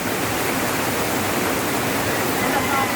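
Strong flood water rushes in a loud, unbroken roar close by, a dense wash of noise filling the whole stretch.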